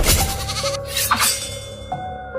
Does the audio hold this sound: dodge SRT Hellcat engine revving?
no